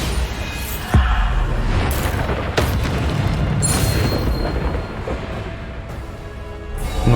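Bombarda spell explosions in the Hogwarts Legacy video game, a loud booming blast near the one-second mark followed by a second thud, over a continuous rumbling wash of game effects and music.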